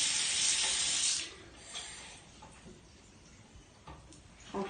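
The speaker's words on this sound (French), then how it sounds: "je vais compléter avec de l'eau froide" Cold water pours into a neti pot with a hissing, spraying rush for about a second, then fades to faint trickles and small clinks, close and moderately quiet.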